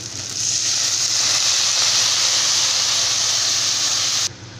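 Loud, steady sizzling hiss of chopped tomatoes frying in hot oil for tomato chutney, starting abruptly and cutting off near the end, with no voices.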